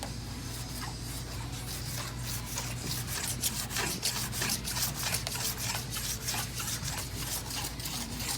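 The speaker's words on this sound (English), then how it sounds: "going over some of the factory lead that's real lumpy and wavy and filing it out a little bit more" A metal file works over lumpy, wavy factory body lead on a 1966 Oldsmobile Toronado, producing a steady run of loud, close rasping strokes in an even rhythm, with no talking.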